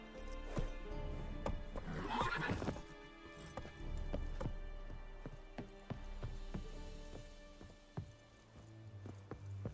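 In the game The Witcher 3, a horse whinnies loudly early on, with hooves thudding at intervals under soft ambient game sound.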